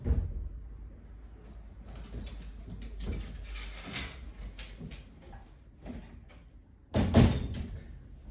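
A stuck door to a dog's small room being worked open indoors, with scattered creaks, rattles and bumps, then a louder thud and scrape near the end, with no talking.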